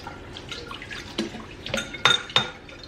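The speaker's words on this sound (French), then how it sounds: "Je fais à l'eau bien chaude." Hot water runs from a kitchen tap while a glass jar is rinsed, with scattered drips, splashes and a few bright clinks of glass near the end, close and without talk.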